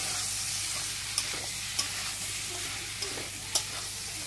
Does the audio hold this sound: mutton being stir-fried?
yes